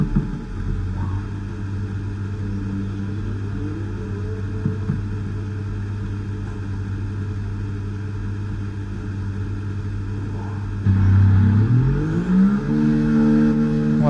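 Williams FW46 Formula 1 car engine in the F1 2024 game at the Las Vegas Grand Prix qualifying, a steady loud idle hum that rises into a sharp rev near the end, with no talk.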